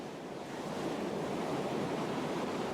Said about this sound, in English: The sound of gentle waves took the place of the ocean's roar